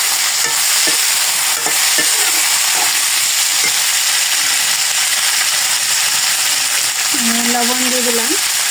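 Vegetables and green chillies fry in a pan, giving a steady loud sizzle throughout, with a few scraping stirs near the start and a brief tonal squeak near the end.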